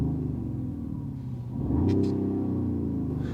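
2024 Mercedes-Benz CLE450 coupe engine idles with a deep, steady rumble, then swells slightly as it is revved, close and continuous with no talk.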